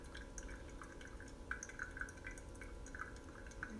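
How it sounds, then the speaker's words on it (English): Water from a gooseneck kettle trickles onto coffee grounds in a pour-over brewer, faint dripping and splashing with small irregular drops over a low steady background. "it helps you control the flow of the water onto your coffee grounds"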